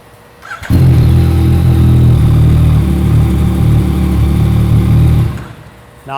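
A 2014 Yamaha FZ-09 motorcycle, fitted with a new battery, cranks and fires right away, then idles loud and close for about four seconds before being shut off.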